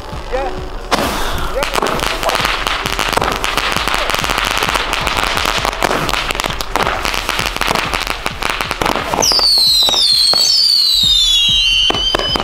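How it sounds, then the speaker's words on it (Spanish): A 25-shot firework battery fires in a rapid, dense string of loud pops and crackling bursts, ending with whistling, crackling effects, while voices talk faintly underneath. "Se fueron bien rápido los 25 tiros"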